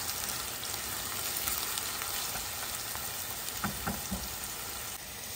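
Onions hit hot oil in a home kitchen pan, giving a steady, close, dense sizzle with a few soft stirring clicks and no talking.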